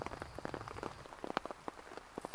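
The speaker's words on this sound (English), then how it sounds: "You can hear the rain coming down. It's coming down quite steadily right now." Steady rain patters on a hammock camp during an overnight kayak trip, close irregular drops tapping the tarp in a dense, constant rhythm.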